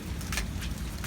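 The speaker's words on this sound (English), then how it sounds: "It's still hailing." Hailstones pelt down steadily during a storm that has knocked down trees and fences, a close, continuous rattling patter with a low rumble underneath.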